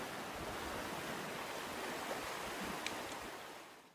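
Sea waves washing at the shore, a steady broad rushing surf that continues evenly throughout, loud and close, with no voices.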